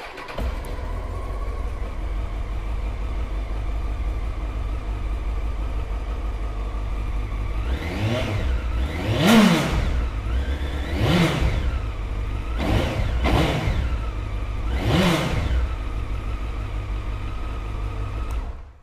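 A 2003 Honda CBR900RR Fireblade 954cc sport motorcycle sits idling steadily up close, then its engine is blipped through four or five sharp, rising revs that fall back to idle between each.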